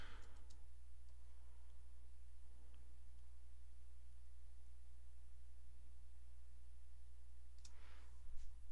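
Sparse mouse clicks while working in drawing software, a few sharp close clicks near the start and a small cluster near the end, separated by long quiet stretches over a constant low electrical hum.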